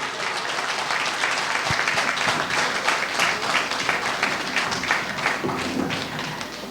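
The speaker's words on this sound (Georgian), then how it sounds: "ხურვალე ოვაციები" Warm audience applause fills a children's concert hall, a dense continuous patter of many hands clapping at steady loudness for several seconds, with no talk.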